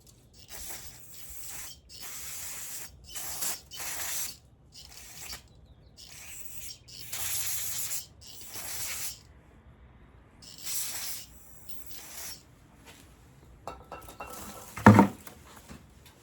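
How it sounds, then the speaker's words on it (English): Repeated bursts of brake cleaner spray hiss in short blasts separated by pauses while servicing a Honda EU1000i generator, close and fairly loud, with a clatter near the end. "I usually spray some brake cleaner on it"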